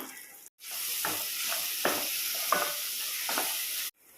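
Chili powder and masala frying with ginger garlic paste in a pan for prawn biryani, a steady bright sizzle with several soft stirring scrapes, close and alone.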